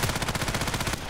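Rapid automatic gunfire from the video game Contract Wars rattles off in a fast, even burst of about a dozen shots, then stops abruptly.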